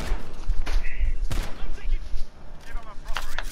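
An MP7 fires in Modern Warfare 2v2 Gunfight, bursts of rapid, close gunshots with sharp cracks and low thumps scattered through the game noise, while players talk over the action.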